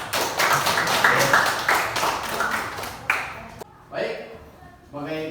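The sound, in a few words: audience applause for a student group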